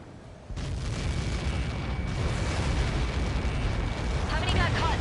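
A massive explosion roars in the jet combat game Ace Combat 7, a dense sustained rumble erupting after a brief lull and filling the whole stretch loudly.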